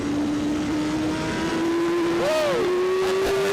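A 2014 BMW S1000RR motorcycle on track at Auto Club Speedway holds a loud, steady engine whine close by, its pitch climbing gradually, with a brief wavering blip near the end.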